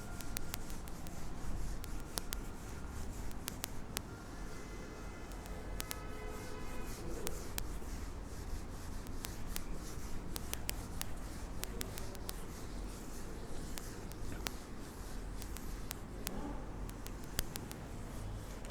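Chalk or marker scraping and rubbing across a classroom board in steady strokes, with frequent sharp taps, continuing for the whole stretch with no talking.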